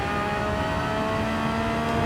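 A race car in Gran Turismo 7 accelerating at Interlagos, a steady loud engine drone with strong sustained harmonics, rising slightly as it pulls down the straight, with no talk.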